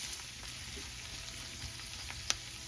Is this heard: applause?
no